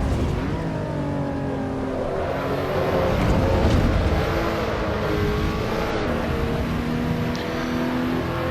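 A car engine in the racing game Assetto Corsa Evo holds a steady, loud drone with shifting revs and tire scrub while sliding through a drift, continuous and close throughout with no voices.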